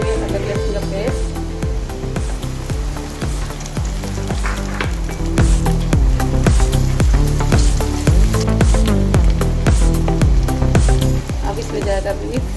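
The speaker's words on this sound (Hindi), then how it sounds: "अब हम इसमें डालेंगे अदरक लहसुन का पेस्ट," Ginger garlic paste hits hot oil with softened onions in a kadai while cooking achar gosht, giving a steady, loud sizzle and frying hiss that runs throughout under background music.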